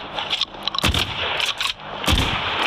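Gunfire from a customized gun in a video game, with sharp loud shots in short bursts, clustered near the start and again toward the end, with brief gaps between them.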